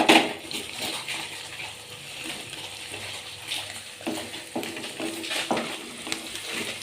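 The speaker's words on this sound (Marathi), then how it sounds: "कांदा लागलाय भाजायला आता" Onion frying in a pan gives a quiet, steady sizzle with scattered clinks and scrapes of stirring throughout.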